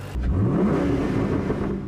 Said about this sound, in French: C'est un V8 4 litres 6 qui développe à peu près 300 chevaux et beaucoup de couples à l'américaine